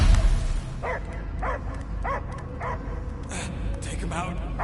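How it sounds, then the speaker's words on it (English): A dog in Guardians of the Galaxy gives a string of about six or seven sharp barks and yips at an even pace, clear over a low rumbling game backdrop. "I hear only barking."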